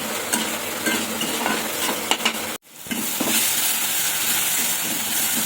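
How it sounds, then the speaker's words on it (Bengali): Spice paste with tomatoes and green chillies sizzles and hisses steadily in a hot pan while being stirred, with a brief drop in the sizzle midway before it resumes loudly. "টমেটো দুটো কাঁচা লঙ্কা দিয়ে আবার কষিয়ে নিচ্ছি"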